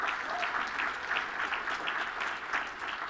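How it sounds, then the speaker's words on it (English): Audience applause at a Rotary community event, an even wash of many hands clapping at moderate distance, steady throughout with no speech over it. "give all my ambassadors a round of applause"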